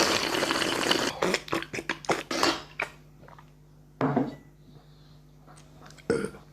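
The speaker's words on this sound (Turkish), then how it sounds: "Yine geğirdi hayvan." A man who has been eating toothpaste at lunch gives a burp amid clattering dishes and cutlery, with running water nearby and several sharp clinks and knocks spread through the moment.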